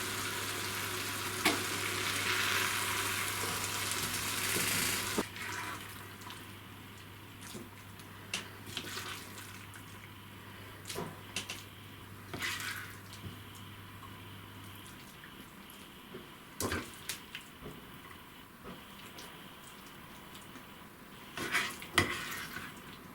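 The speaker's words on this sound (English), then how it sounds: "I'm going to dish it out in this dish" Minced meat with mixed vegetables is scraped and spooned out of a pan into a dish, with soft utensil scrapes and clinks over a faint background hum, fairly quiet and intermittent.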